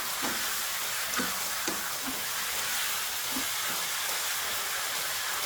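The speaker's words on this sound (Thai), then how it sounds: "เราก็จะเริ่มผัดไปเรื่อย ๆ นะครับ" A sweet and sour stir-fry sizzles in a hot pan with a steady broad hiss, while occasional soft knocks of a utensil stirring the ingredients come through at close range.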